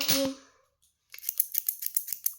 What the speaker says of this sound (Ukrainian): Такі ножниці. Угу. Це для шиття.